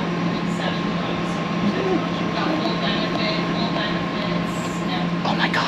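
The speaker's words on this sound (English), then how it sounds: "these are pretty substantially sized locomotives" Large, heavy locomotives pass close by with a loud, steady rumble and rattle that fills the whole stretch without easing.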